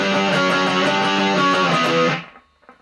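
Heavily distorted electric guitar chugs out a pre-chorus riff of repeated power chords from a song, loud and dense for about two seconds before cutting off into a faint ringing tail.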